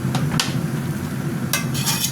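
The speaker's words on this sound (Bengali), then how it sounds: "ঢাকনাটা তুলে নিয়ে মিষ্টি কুমড়াগুলো আরেকটু ভালো করে নেড়ে দিই" Sweet pumpkin curry with dried shrimp being stirred in an uncovered wok on high heat, a few sharp spatula scrapes against the pan over a quiet background sizzle, close and alone.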